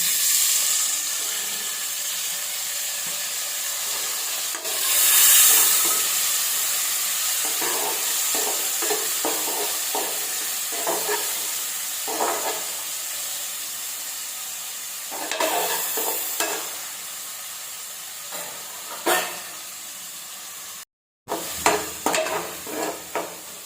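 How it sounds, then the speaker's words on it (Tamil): Tomatoes sautéing with onions in a pan, a continuous close sizzle broken by repeated rhythmic stirring scrapes and taps of a spoon, with a brief pause near the end before more stirring. "தக்காளியும் நல்லா வதங்கிடுச்சு"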